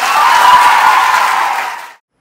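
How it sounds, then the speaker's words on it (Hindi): A short, loud burst of applause from a group of participants at a school workshop in Jalgaon, India, strong at first and fading out quickly after about two seconds. "एक बार अपने लिए जोरदार तालियां बजाएंगे"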